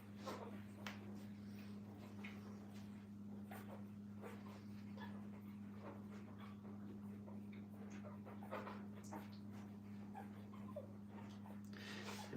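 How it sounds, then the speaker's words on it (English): Puppies in a kennel feeding together, with continuous soft whimpers, panting and small yelps mixed over a steady low mechanical hum, close and moderately quiet throughout. "puppies make a lot of noise"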